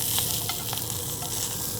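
Jalapeño peppers blister in a hot pan with a steady, close sizzle and crackle, small pops rising above the continuous frying hiss.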